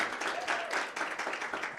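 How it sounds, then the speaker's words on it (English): Audience applause for Thelma at an institutional competition, a steady wash of many hands clapping for under two seconds with no talk over it. "Another round of applause for Thelma."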